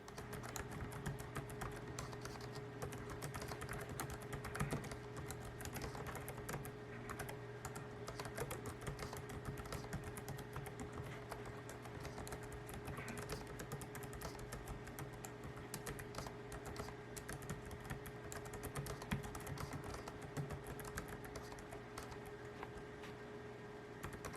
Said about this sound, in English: you just press the space bar and that's it